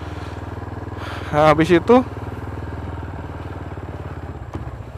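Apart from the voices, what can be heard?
motorcycle engine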